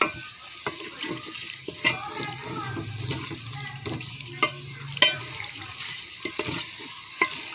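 Dal mash masala is stirred and roasted in a cooking pot, with water added as it fries, giving a continuous soft sizzle broken by scraping stirs and occasional sharper clinks of the spoon against the pot.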